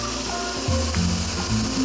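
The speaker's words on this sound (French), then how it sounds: "On va lancer maintenant les blancs d'œufs. Alors là, directement dans le robot," A food processor whips egg whites with a pinch of salt for a cheese soufflé, giving a continuous loud mechanical whirring and grinding with shifting pitch throughout.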